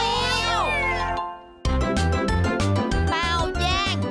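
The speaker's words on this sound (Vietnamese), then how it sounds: "Wow, một con mèo." A cartoon cat in the animated series Hello Jadoo gives a rising and falling meow, loud and close, then cheerful background music with bouncy beats takes over.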